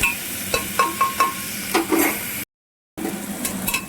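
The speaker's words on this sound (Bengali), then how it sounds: "আলুটা এখানে লাল লাল করে ভেজে নেব" Potatoes frying in a pan until reddish brown, steady sizzle with a quick run of rhythmic stirring scrapes and clicks near the start, a brief dead-silent gap, then the sizzle resumes, close, no talking.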